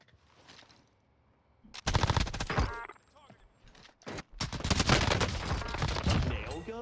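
Nail gun firing in a video game, rapid rattling bursts of shots, loud and close, in two long volleys with a short gap between them.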